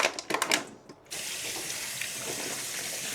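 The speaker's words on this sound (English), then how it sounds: "I'm gonna wash these tomatoes now." A few clicks and knocks of tomatoes being handled in a kitchen sink, then the tap opens into a steady, close rush of running water that continues to the end.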